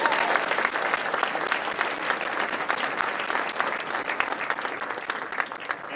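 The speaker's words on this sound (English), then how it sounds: "And now, one final round of applause for Dr." Sustained audience applause at an ancestral health symposium session, a dense even patter of many hands clapping steadily for the full stretch, fairly close and loud with no talking over it.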